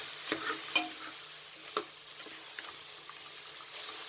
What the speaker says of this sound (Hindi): अब आपने इसके अंदर फ्रसबीन को शामिल कर देना है।